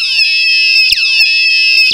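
Electronic beeping alarm tone from an Arduino, like a house alarm: loud, shrill, continuous warbling sweeps repeating about every second, with no voices.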